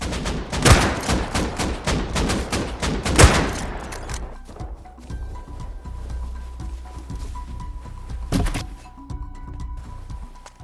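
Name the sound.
AK rifle gunfire in the video game Rust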